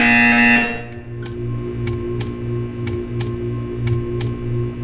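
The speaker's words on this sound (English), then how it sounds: "When you hear the buzzer, stare at the art." In the video game Portal, a long, loud electronic tone stops and is followed by a steady series of short, sharp buzzer pulses at an even pace over a constant low hum.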